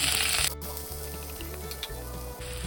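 Fenugreek greens tipped into hot oil with ginger, garlic and chili paste, giving a loud burst of sizzling at first that settles into a steady, softer frying crackle.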